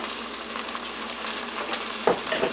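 Onion paste frying in a pan for a Bangladeshi chicken roast makes a steady, moderate sizzle, with a brief burst of stirring scrapes near the end.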